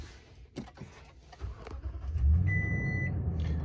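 A 2021 Toyota Tundra TRD Sport starting up: low engine rumble builds and settles into a steady idle, with a few clicks beforehand and a sustained electronic dashboard tone near the end.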